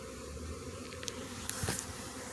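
Honeybees from a swarm hum continuously near their hive about five feet away, a close, even buzzing drone with a few brief louder passes.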